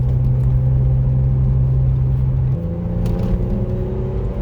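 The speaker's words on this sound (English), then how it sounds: "driving the car normal here" A Saab 9-3 with fresh performance front rotors and pads drives normally on a public road in traffic, its engine and road rumble a steady low drone heard from inside the cabin, with a slight shift in pitch partway through.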